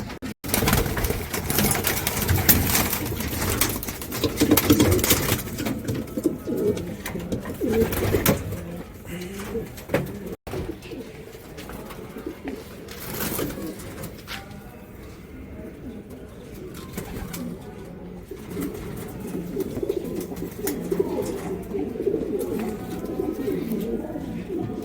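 A pet pigeon coos repeatedly at close range in a home, the soft throaty calls running throughout over background room noise.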